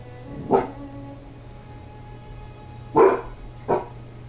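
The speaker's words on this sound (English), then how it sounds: "Fen, what are you barking at?" A dog barks three times, one sharp bark early, then two close together after a pause, against a quiet low hum.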